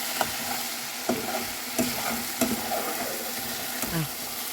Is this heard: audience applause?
no